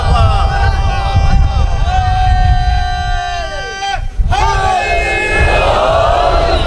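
A large crowd of listeners from Larkana at a religious sermon chanting slogans together: loud, massed voices calling in unison, close and sustained, with one lead call followed by a swelling group reply.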